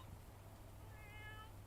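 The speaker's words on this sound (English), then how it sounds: "I love you too, kitty cat." A cat meows in a short rising, tonal call near the end, close and fairly clear over a steady low hum, with no talking.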